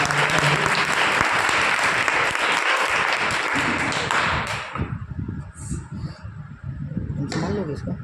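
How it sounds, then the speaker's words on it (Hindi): Thunderous applause from an assembly audience gathered for a commemorative gathering, loud and sustained for several seconds before tapering into scattered claps, with a voice speaking as it fades. "सभी तालियों की गड़गड़ाहट"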